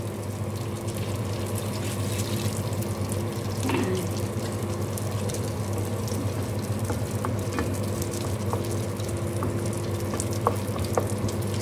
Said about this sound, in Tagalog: So, mag-additional po tayo ng water.